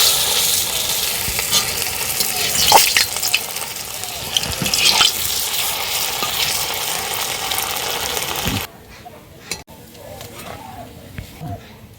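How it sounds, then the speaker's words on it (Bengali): Rasapuli pitha frying in a pan makes a steady, close sizzle with occasional stirring scrapes, which fades to a quieter hiss near the end. "এইভাবে করে প্রত্যেকটা ভাজবো আর এইভাবে সরাসরি চিনির শিরায় দিয়ে দেবো।"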